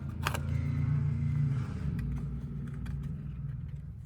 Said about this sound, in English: Somebody has a really loud car.